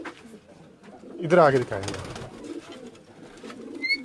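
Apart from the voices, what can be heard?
pigeons cooing, racing pigeons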